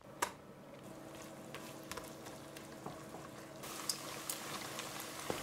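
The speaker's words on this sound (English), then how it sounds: "So I started with melting the fat" Fat melting in a pan for Norwegian leverpostei, a soft steady bubbling sizzle with scattered faint pops and crackles throughout, quiet and close, no talking.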